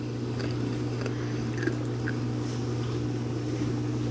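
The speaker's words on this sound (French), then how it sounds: "désolée pour ceux qui n'aiment pas les bruits de bouche." Close, wet mouth noises of someone chewing crunchy Reese's chips, a steady soft munching over a constant low hum with no talking.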